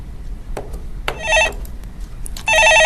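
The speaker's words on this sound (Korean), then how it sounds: "예, 전화 받아보겠습니다." A telephone rings in a broadcast studio during a stock market call-in show, bright electronic trilling bursts in a repeating pattern, loud and close with no talk over them.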